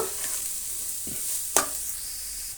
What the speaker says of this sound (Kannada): ಇದನ್ನು ಒಂದು 2 ನಿಮಿಷ ಚೆನ್ನಾಗಿ ಕೈ ಆಡಿಸ್ಕೊಂಡಿರಬೇಕು ಫ್ರೆಂಡ್ಸ್, ಬೇಯಬೇಕು.